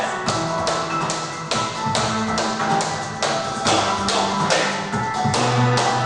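Rapid, crisp tap-shoe step touches in a steady rhythm, clicking sharply against a hard floor during a beginner tap class, close and loud.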